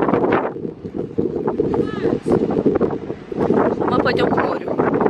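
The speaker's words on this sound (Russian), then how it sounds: "Сонечка, не бросайся, здесь ветер." Wind roars against the microphone in strong gusts on a beach at a Hurghada resort while people talk, and a voice rises briefly over the rushing noise.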